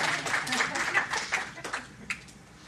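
Scattered claps from a small audience at a WordPress meetup, irregular and fading out, mixed with light background voices.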